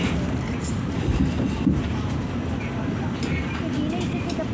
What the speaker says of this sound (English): There's another train here.